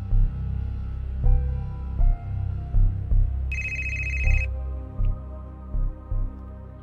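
A telephone ring rises in one short, bright burst of about a second midway, heard over a steady background music score while a call is being placed.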